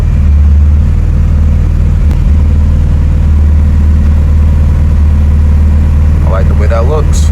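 A Mitsubishi Evo 8 runs with a loud, steady low engine drone close by, idling evenly throughout, with a brief higher sound near the end and a voice talking over it.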